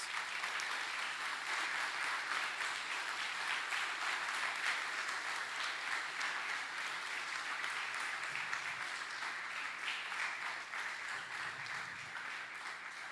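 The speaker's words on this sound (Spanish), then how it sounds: "Denle un fuerte aplauso al Rey de Reyes" A church congregation applauds in sustained, even clapping that fills the room at a moderate distance and carries on without pause.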